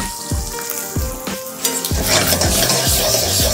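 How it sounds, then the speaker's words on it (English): Diane sauce sizzles and bubbles in a hot pan that still holds the juices from cooked veal saltimbocca, with steady frying hiss and repeated stirring or scraping knocks growing louder and busier toward the end. "And it's pretty much already boiling because the pan was already hot."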